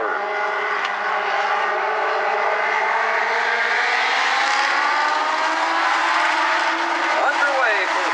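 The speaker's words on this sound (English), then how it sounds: "Underway for the first of 2 heat races for the Lexar Home Legends." Legends race cars pull away at the start of a heat race on an oval track, a dense roar of several engines droning and rising together at a distance, steady and loud with a voice talking over it.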